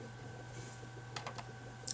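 A few quick computer keyboard clicks, faint and close, one after another, ending with a final key press at the end over a low background hum.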